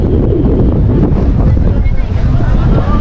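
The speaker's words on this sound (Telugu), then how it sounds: "అలలు చూడండి ఎంత పెద్ద అలలు వస్తున్నాయండి ఇక్కడ గాలి చాలా ఎక్కువ ఉంది" Strong wind roars and buffets the microphone at the seashore of Dhanushkodi, with the rush of large waves mixed into a loud, constant, close roar.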